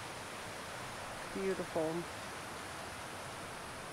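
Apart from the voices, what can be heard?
river flowing on Cache Creek Trail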